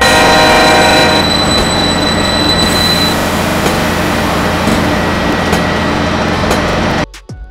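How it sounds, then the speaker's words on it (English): A train is driven in the mobile game Train Simulator Pro 2023, with a continuous loud rail rumble and steady tonal hums and brief whistle-like tones early on. The sound runs unbroken, then cuts off abruptly near the end. "our brand new train simulator game has been launched where you will drive a train to various locations"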